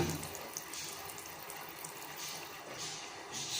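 A tap runs steadily into a sink, a soft continuous splash heard alone at low level.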